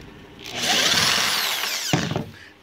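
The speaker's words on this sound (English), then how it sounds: "Take off all these screws" A power drill whirs up to speed backing screws out of a wooden board, a loud close whine that winds down and ends with a couple of clicks and knocks.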